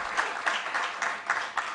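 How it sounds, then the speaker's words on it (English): Brief applause at a World Parliament Day event, soft clapping from a small crowd with a few distinct claps standing out, fairly faint and distant. "Give her a round of applause"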